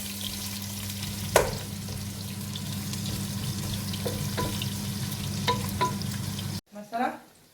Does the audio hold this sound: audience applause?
no